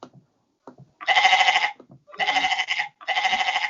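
Goat bleating as a sound effect, three loud wavering bleats in a row, close and clear with short gaps between them and faint breathy noises in between.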